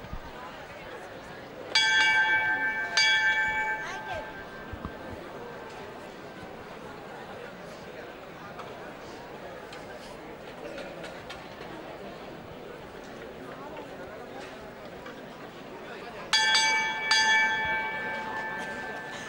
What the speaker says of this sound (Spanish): van a sonar las tres campanas a la vez